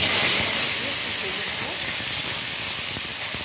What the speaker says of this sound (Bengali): জিরে, শুকনো লঙ্কা, তেজপাতা ফোড়ন দিলাম, আর একটু হিং দিয়ে দিলাম